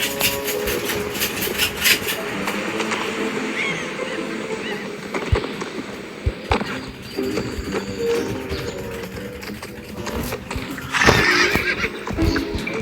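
A horse in a video game whinnies loudly, with hooves clip-clopping and light background sounds; no one speaks.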